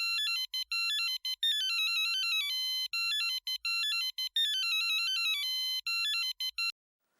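A mobile phone ringtone plays a bright electronic melody in repeated phrases, alone and clear, then cuts off near the end; the scene is from an Indian TV sitcom.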